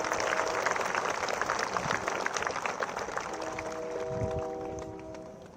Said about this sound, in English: Join me once again in a round of applause for these guests